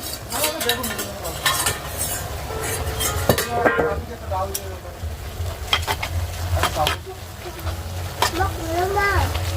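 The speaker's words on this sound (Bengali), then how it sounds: "রসুন আর কাঁচা লঙ্কা তেলে ভালো করে ভেজে নিয়ে আমি শাকটা দিয়ে দিলাম আর লবণ দিয়ে দিলাম" Greens hit hot oil with fried garlic and green chili, then get salted: a loud, continuous sizzle with scraping stirs and clinks of a spoon on the pan, while a person talks over it intermittently.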